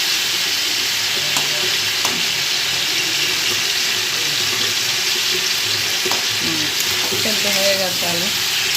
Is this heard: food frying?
yes